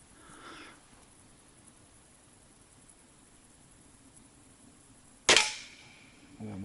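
A single sharp, loud air gun shot cracks out at a target in the taiga after several seconds of quiet background hiss, followed by a brief rustle.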